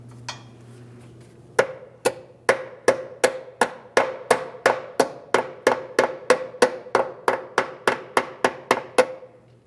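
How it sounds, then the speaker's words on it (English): Steady hammer taps on a metal brake hose clip on a 2005-2010 Chrysler 300, about twenty sharp evenly spaced strikes with ringing decay, close and loud over a faint low hum. "continue on by tapping it in with a hammer if necessary"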